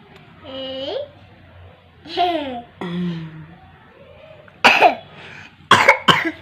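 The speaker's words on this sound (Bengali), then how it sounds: "কাশি হচ্ছে?" A small child coughs in a few sharp bursts near the end, after stretches of babbling and high childish vocal sounds, close and loud in a home setting.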